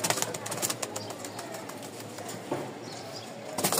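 Lotan pigeons coo and rustle close by in a loft, a soft continuous mix of bird sounds with handling noises and brief flutters.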